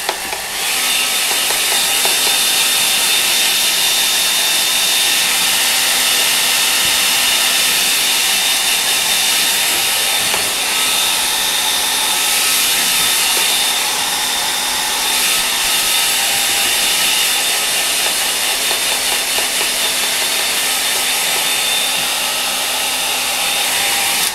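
A hair dryer blows steadily and loudly for the whole stretch, drying watercolour paint on a landscape painting, with an unbroken whooshing roar and no talking.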